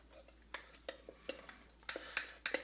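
A spoon stirs sourdough starter with a little honey in a bowl, making a run of sharp, quiet clinks and taps against the bowl in an uneven rhythm, close up.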